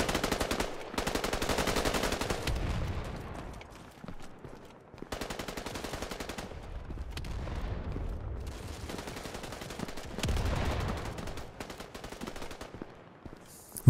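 Automatic gunfire in the video game Battalion 1944, long sustained bursts of rapid shots separated by short gaps, loud and close, with some heavier low thumps between volleys.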